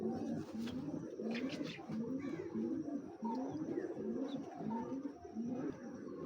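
Male red-throated pigeons coo in a bird collection. The soft, rolling calls repeat close by in a steady rhythm over a constant background hiss.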